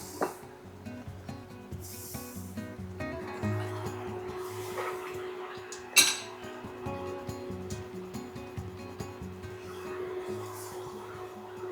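About 70-80 grams of butter is stirred in a pan for a pollock dish, a soft repeated scraping and rubbing under a faint kitchen hum, with one sharp clink midway.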